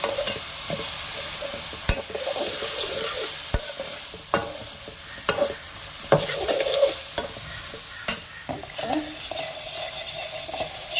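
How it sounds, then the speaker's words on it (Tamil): Brinjal frying with cumin in a pan, a constant sizzle under frequent sharp scrapes and taps of a spoon against the pan as it is stirred, close and alone. "அப்படியே கத்திரிக்காயும் கிளறிக்கலாம்."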